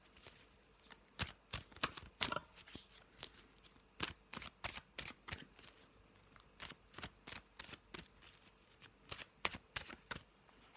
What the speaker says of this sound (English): let's have a little shuffle and see what the Black and White Formula deck has for us